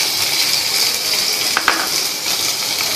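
Chopped onion and tomato sautéing in a pan for a fish curry: a steady close sizzle and frying hiss, broken by a couple of soft clinks of a utensil stirring against the pan.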